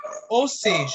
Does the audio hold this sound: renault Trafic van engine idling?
no